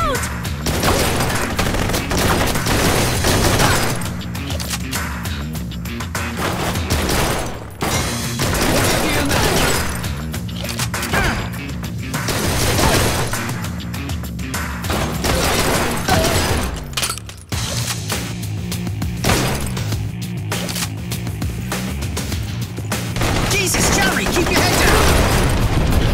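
Rapid bursts of heavy gunfire and booming shots in the action shooter game Blue Estate, loud and dense, repeating in volleys with short pauses and occasional shattering impacts throughout.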